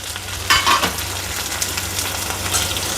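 Tomatoes sautéing with softened onions in a pan, a loud close sizzle with stirring scrapes and clatter at the start, then a steady hiss with occasional spatula taps.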